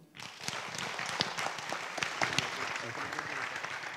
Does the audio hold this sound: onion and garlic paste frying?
no